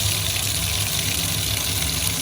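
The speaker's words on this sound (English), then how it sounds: "whenever you want to let it flow out for the water to go into the drain, you're just gonna lift it up and give it a little twist, and the water flows into here" Water pours steadily down an open toe-push tub drain in a bathtub, a constant close rushing and gurgling wash with no pauses.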